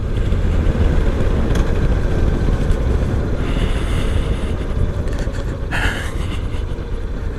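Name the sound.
Honda motorcycle riding and downshifting on a rough highway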